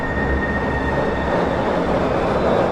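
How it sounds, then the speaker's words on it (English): A monorail train lurching into motion as an audio drama effect, a loud, steady rumble of wheels and carriage with a thin high whine running through it, no voices. "As the monorail lurched into motion"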